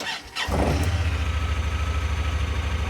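Salvaged side-by-side UTV engine cranks briefly with a squeal, catches and settles into a steady, pulsing idle, loud and close.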